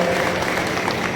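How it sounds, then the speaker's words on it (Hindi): An audience at a satsang religious gathering in India claps together in dense, steady applause that fills the whole moment, loud and close with no pauses. "उनके लिए भी ताली बजाएं, धन्यवाद ज्ञापित करें"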